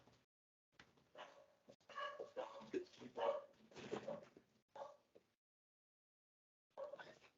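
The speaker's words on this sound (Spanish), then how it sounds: "llegó alguien a la casa y mi perrito está molestando" A small pet dog at home barks and yips repeatedly in an irregular burst at a visitor, close and fairly loud, falling quiet before a final short round of barks.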